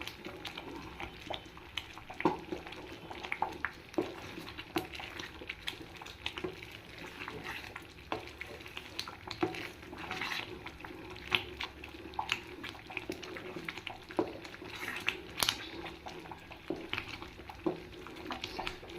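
Thothal halwa cooks on high flame in a Tuticorin kitchen, with a continuous low bubbling and frying hiss and repeated stirring scrapes and thuds, fairly faint and steady.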